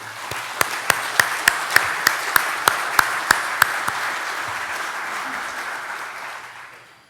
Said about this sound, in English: can we give all those folks another applause, even though they might not be in here?